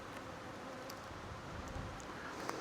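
Honey bees buzz at a hive in a steady, close, continuous drone. Occasional louder passes come from individual bees flying near.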